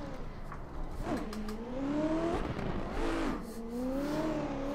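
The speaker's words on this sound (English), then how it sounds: "Fifth gear, kick it in. A little bit handbrake entry on that." A drift car's engine pulls hard in fifth gear after a handbrake entry at practice, rising and falling in pitch as the revs surge, with faint tire noise under the engine note.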